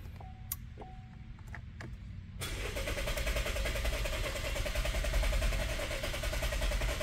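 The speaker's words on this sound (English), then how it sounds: "It didn't stop cranking and I pressed it." A Chevy Malibu with a crank-but-no-start fault keeps cranking its engine after a start attempt, a steady close mechanical churn that kicks in abruptly and runs on loudly without catching.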